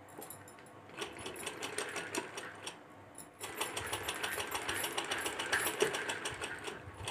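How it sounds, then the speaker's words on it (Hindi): Sewing machine stitching the neckline of a shirt, a steady rapid mechanical whir that pauses briefly near the middle and then resumes, continuous and close with no talking. "तो चलिए अब गला जोड़ते हैं और सिलाई करते हैं।"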